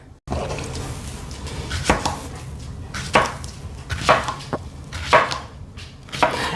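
A knife chops lemon and cucumber on a cutting board, about six sharp, separate thuds spaced roughly a second apart, close and clear over a faint steady background hum.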